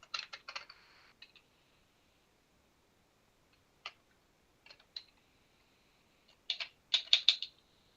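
Typing on a computer keyboard in a quiet room, short bursts of quick clicking keystrokes separated by pauses, close and fairly faint.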